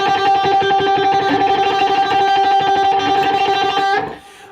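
An electric guitar picked hard, the pick digging into the strings, rings out as a loud, bright, driven tone with a steady pulse of attacks for about four seconds before cutting off and fading.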